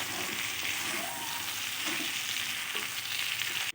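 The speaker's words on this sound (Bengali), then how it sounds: "সবগুলো উপকরণ খুব ভালোভাবে কষানো হয়ে গেছে" Mixed vegetables and fried paneer sizzle continuously in a pan while being stirred and sautéed, a steady close frying hiss with soft stirring scrapes, ending in an abrupt cutoff.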